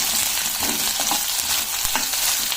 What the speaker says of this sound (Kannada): ಈಗ ಇದೇ ಎಣ್ಣೆಗೆ ಕ್ಯಾಪ್ಸಿಕಮ್ ಕೂಡ ಎಣ್ಣೆಯಲ್ಲಿ ಚೆನ್ನಾಗಿ ಬೇಯುತ್ತೆ